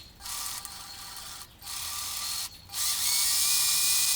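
Sewing machine stitches bias binding onto a corset top, a close, loud, fast whirring hum in three bursts separated by short pauses, the last run longest.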